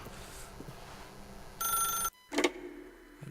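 An old-style telephone bell rings in the video game The Stanley Parable, a single sustained metallic burst that cuts off abruptly, followed by a brief clunk like the receiver being lifted.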